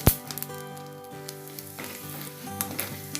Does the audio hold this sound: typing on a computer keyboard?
no